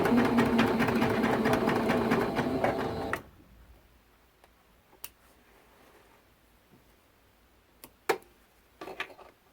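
A sewing machine stitches a seam on a t-shirt quilt top, running at a steady fast mechanical chatter for about three seconds, then stopping, followed by quiet handling clicks and fabric movement.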